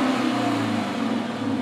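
Idling car engine and exhaust at startup on a Chrysler 300S or Dodge Challenger, fitted with a catalytic converter: a steady, low, continuous rumble heard close up with no talking.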